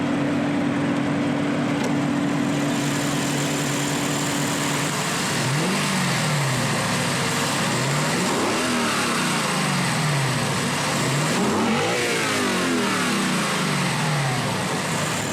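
A 2018 Lexus LC 500 with its 5-liter dual overhead cam 32-valve V8 revs in several rising and falling sweeps, loud and close, over a steady engine drone with no talking.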